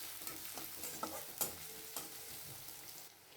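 Chopped onion frying in a pan, soft sizzling broken by several scraping stirs and light utensil taps, quiet and close, fading at the end.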